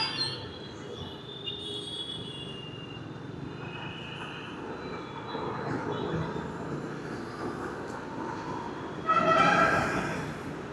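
An Ameerpet metro train passes with a low, continuous rolling rumble that swells near the end, where a brief high wheel squeal rises above it.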